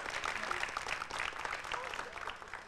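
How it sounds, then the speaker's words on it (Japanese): An audience applauds a traditional Japanese daikagura juggling and acrobatic performance, with steady, moderately loud clapping sustained throughout. "拍手をお願いいたします"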